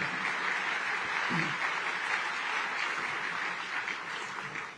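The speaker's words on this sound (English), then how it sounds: "can we give a round of applause to all of our incredible port and dock workers for achieving this milestone?" Audience applause for port and dock workers at a State of the Port event, a steady, dense clapping that holds for several seconds at a moderate, even level.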